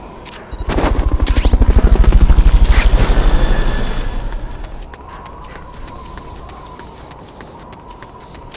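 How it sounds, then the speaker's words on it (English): Helicopter in the Metal Gear Solid Peace Walker video game, a loud rotor roar with rapid chopping pulses that swells in the first seconds, then fades to a steady lower drone with faint clicks. "Fulton recovery to helicopter is complete."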